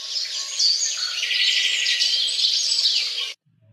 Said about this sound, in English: or like a bird, like this.